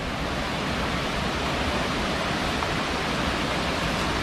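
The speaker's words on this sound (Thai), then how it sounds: "ถึงแล้วนะครับทุกคนน้ำตกกระทิงชั้นที่8" Water pouring down tier 8 of Krathing waterfall during a low-flow season, a steady broadband rush that fills the whole span without pause, close and even in level.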